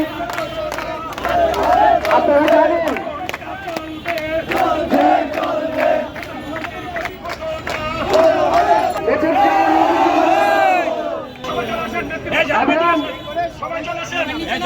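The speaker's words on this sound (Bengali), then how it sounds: "এই সমাবেশে রীতিমতো এসেছে সংগ্রামী স্লোগান" A crowd of auto-rickshaw drivers at a street rally outside a press club loudly chants militant protest slogans in unison. Massed voices rise and fall in steady waves for the whole stretch, with background chatter between the chants.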